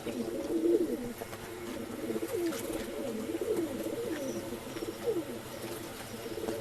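Rekdhar pigeons for sale in Bangalore coo in repeated soft, throaty rolling calls, several overlapping birds close by with a steady low background murmur and no talk.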